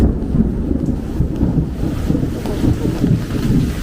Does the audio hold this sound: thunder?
yes